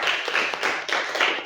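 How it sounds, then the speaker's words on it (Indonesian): A classroom of students claps together in a short, dense burst of applause, fairly loud and close, with no talking. "tepuk tangan dulu dong"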